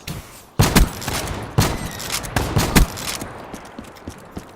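Argus shotgun fire in the video game Call of Duty Black Ops 3: a run of loud, sharp blasts spaced roughly half a second apart, each trailing into a booming tail, with no talking.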